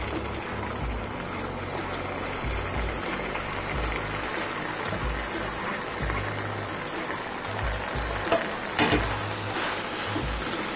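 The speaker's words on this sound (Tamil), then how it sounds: "இப்போ வந்து நம்ம எடுத்து வச்சுருக்க காலிஃப்ளவர் வந்து இதில் போட்டுடலாம்." Cauliflower pieces fry and are stirred through a potato and pea kurma masala in a pan, giving a steady, close sizzling hiss with scraping stirs throughout.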